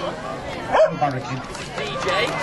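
A dog barks a couple of times at an outdoor dog show, the yips sitting under near constant talk and crowd chatter.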